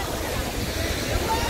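A hidden waterfall at Attapur Suncity in Hyderabad gives off a constant broadband rushing roar, heard from nearby with some wind buffeting and no break.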